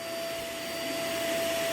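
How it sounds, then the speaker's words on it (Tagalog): A vacuum cleaner runs nearby during dog training: a loud, steady whooshing roar with a constant high whine, unbroken throughout and with no talk over it. "oh sige, ayan na yung vacuum"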